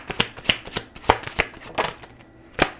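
Tarot cards shuffled by hand, giving a run of crisp riffling and slapping bursts with several cards spilling loose from the deck, close and clear with no talking.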